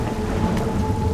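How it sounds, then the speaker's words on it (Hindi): Heavy rain with thunder as a movie sound effect, a steady dense downpour hiss with a low rumbling roll throughout, close and loud with no talking. "अरे रे, इतनी बारिश क्यों हो रही है?"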